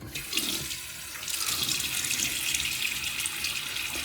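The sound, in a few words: water running from a tap while wetting face before shaving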